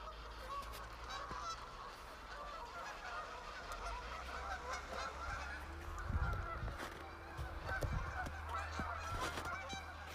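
Geese honk repeatedly in the distance, a faint busy chorus of calls over low rumbling background noise.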